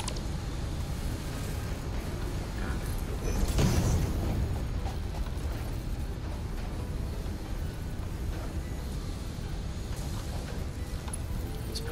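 Structure being torn down in the factory-building game Satisfactory, a steady low rumbling mechanical noise with a brief louder crash-like swell partway through, continuous and without talk.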